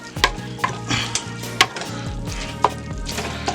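Cajun pasta sauce being stirred in a skillet, a spoon scraping and knocking against the pan in irregular strokes over a soft simmering sizzle, close up with no voices.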